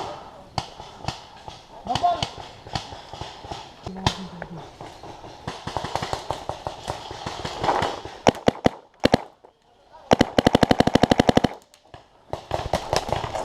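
Paintball markers fire during an outdoor paintball game in a housing-estate setting, with sharp pops in scattered single shots and quick rapid bursts, some close and loud, mixed with players calling out to each other.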